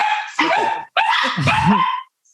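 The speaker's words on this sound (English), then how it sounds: "my dogs are going to bark" Several dogs bark loudly at close range in two bursts of overlapping, high yappy barks and whines, then go quiet.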